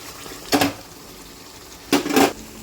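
A spoon stirring fish curry with koi in a pan, two brief scraping bursts close by with a quiet pause between, no talk.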